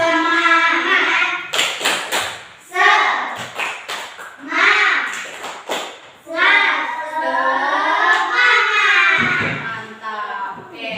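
Primary school pupils in an Indonesian classroom perform a rhythmic spirit clap, with sharp clustered hand claps mixed with children's chanting and shouting voices throughout.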